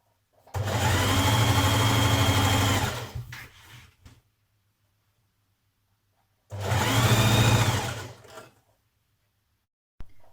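A sewing machine stitches the side seam of a Burda 6222 dress in two separate bursts, one of about three seconds and a shorter one of about two seconds, each a close, fast, even whir with silence in between.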